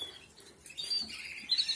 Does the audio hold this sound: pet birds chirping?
yes